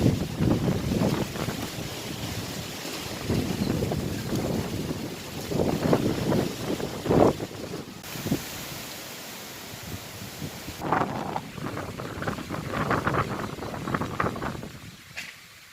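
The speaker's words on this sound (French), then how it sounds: "Donc on a un vent fort" Strong cyclone wind roars and buffets the microphone in loud, uneven gusts, surging and easing over a sheltered spot walled in on all sides, with no talking.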